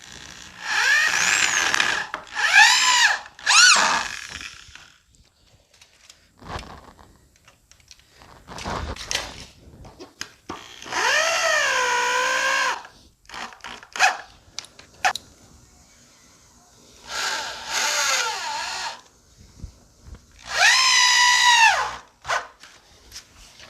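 A power drill drives 2.5-inch screws into treehouse wall framing, its motor whining up in several separate bursts of one to three seconds, split by quiet gaps and clicks, loud and close.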